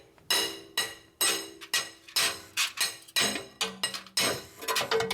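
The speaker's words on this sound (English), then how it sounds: "I'm getting to the back of the axle and tapping it out with a hammer" Hammer blows tapping a drive axle out of a Nissan Murano during a wheel bearing and axle replacement, about a dozen sharp metallic strikes in an uneven rhythm, some ringing briefly, with no talking.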